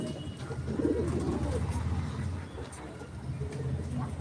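Siraz pigeons, some of them cross birds, coo in a low, steady, overlapping murmur that runs throughout, with a faint voice or two in the background.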